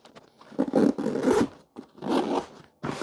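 A zipper on a padded go bag holding an IC-705 radio, heard as several quick rasping pulls close up with short pauses between them, no talking.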